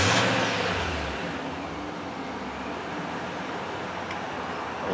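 A car fitted with a new battery and alternator starts up with a loud burst of engine noise, then drops back to a steady idle rumble nearby, with no one talking.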